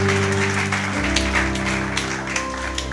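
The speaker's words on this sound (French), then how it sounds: "Acclamons le Saint-Esprit encore une fois" A church congregation claps together during a worship service, producing steady, moderately loud applause over sustained low organ or keyboard tones that shift partway through.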